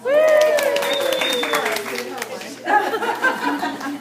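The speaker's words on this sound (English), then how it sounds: "Give her a round of applause." A crowd claps in a burst of applause, mixed with chatter and a few voices talking over it, fairly close and lively.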